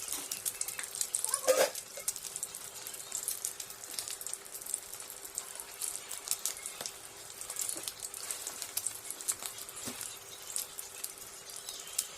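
An egg omelette with minced pork frying in a pan gives a faint, steady crackle and spatter of popping oil, with a brief louder burst near the start.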